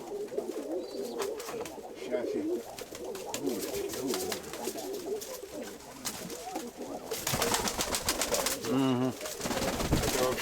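Mykolaiv pigeons coo in soft repeated phrases near a loft, with rustling and wing flutters throughout and a louder burst of flapping toward the end.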